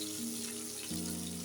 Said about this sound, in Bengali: মাছগুলি এখন ভেজে নিই